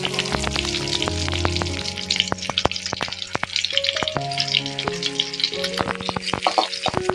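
Chopped small onions and fennel seeds frying in a pan, a loud continuous sizzle with stirring scrapes and clinks throughout.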